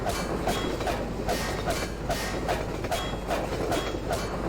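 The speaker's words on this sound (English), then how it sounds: "I think I was meant to jump on the train." Train passing in Half-Life 2: a loud, close, steady rumble with a rhythmic clickety-clack of wheels over rail joints running throughout, with no talking.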